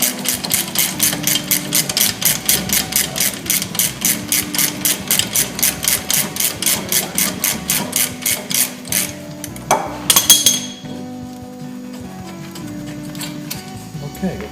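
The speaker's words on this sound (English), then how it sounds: "Take the bolts off. Careful you don't lose them." Bolts on a 2005 Chevy Avalanche brake caliper bracket being backed out, a fast, steady, close metallic ratcheting clatter for about nine seconds, then a brief clunk and quieter workshop background.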